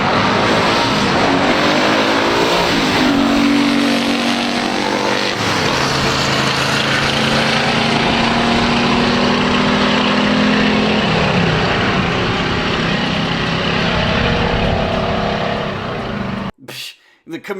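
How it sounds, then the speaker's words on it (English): A Chevrolet Camaro and a Buick racing side by side down a drag strip, loud engines roaring and rising in pitch through several gear changes before the sound cuts off abruptly near the end. "let's see what these two cars can do on the drag strip"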